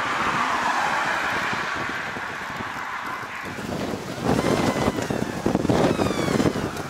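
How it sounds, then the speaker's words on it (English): Wind gusting through open country during a thunderstorm chase near a highway, 8 to 10 mph winds raising dust, a steady roaring rush on the microphone that grows louder and more buffeting in the second half, with no talk. "We got 8 to 10 mile an hour winds."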